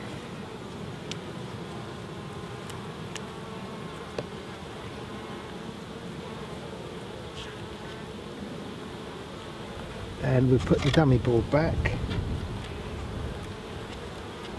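Honey bees buzz softly around an open hive during an inspection, a steady low hum under a person's voice, with a louder, rustling surge of activity near the end.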